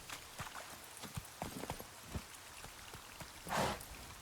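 Roach, Geralt's horse in The Witcher 3: Wild Hunt, moves with soft irregular hoof clops, fairly quiet, over a rain-like background, followed by a brief louder whoosh near the end.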